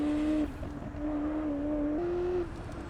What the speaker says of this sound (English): All the burbling and popping.